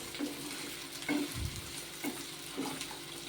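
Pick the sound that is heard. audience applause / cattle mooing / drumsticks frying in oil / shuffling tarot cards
drumsticks frying in oil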